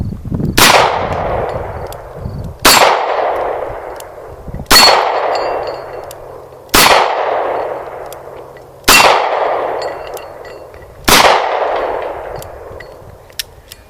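Six loud gunshots from an EAA Windicator .357 Magnum revolver fired double action, spaced about two seconds apart, each a sharp crack followed by a long ringing decay.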